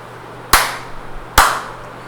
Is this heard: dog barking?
no